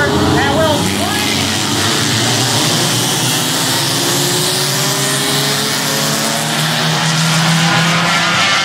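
Stock compact race cars speed around Mt Lawn Speedway in a 50-lap feature, engines roaring loud and continuous with rising and falling pitch as cars pass, tires squealing through turns, and an announcer talking over the racket.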